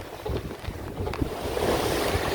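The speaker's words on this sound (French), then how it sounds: "On a du vent, il est contre nous, mais on a du vent." Wind blowing across a sailboat crossing the Atlantic from Bonifacio to Martinique, with a steady gusty rush over the low wash of waves, close to the microphone, with no voices.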